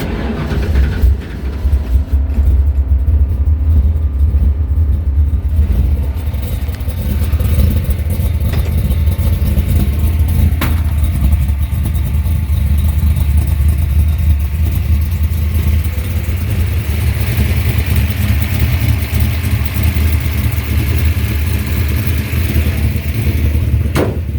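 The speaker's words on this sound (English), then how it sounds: "Hear the rattling. It does have solid lifters. It's got a Lunati Bracket Master cam." A 1968 Ford Falcon Futura V8 with solid lifters and a Lunati Bracket Master cam idles steadily and loudly up close, with a constant low rumble and a busy mechanical valvetrain rattle over it.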